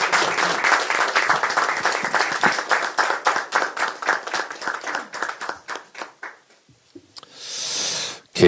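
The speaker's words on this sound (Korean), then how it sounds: "여러분 큰 응원의 박수를 부탁드립니다." A crowd at a South Korean Democratic Party political rally claps loudly and fast, the applause thinning into scattered claps and dying out, followed by a short burst of noise.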